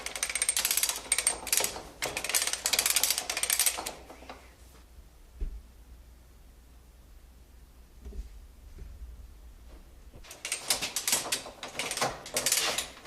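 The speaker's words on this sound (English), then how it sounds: "Then I'll take a couple turns on the hand cranks to start to put some tension on the wires." Hand cranks turned to tension wires on a wooden wheel give bursts of dense mechanical ratcheting clatter, then a quieter stretch with a few soft knocks before the clicking resumes.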